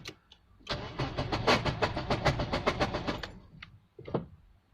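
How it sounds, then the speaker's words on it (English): Nissan Bluebird starter motor cranking hard in a rapid rhythmic chug for about three seconds without the engine catching, followed by a couple of brief clicks and clunks, close and loud. "the starter sounds terrible, but we're not getting anything"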